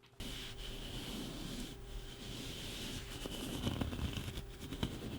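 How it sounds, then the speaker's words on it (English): Soft, steady scratching and rubbing of hands across a towel, close to the microphone, with a few sharper scrapes toward the end. "So I don't know if you can hear the towel scratching."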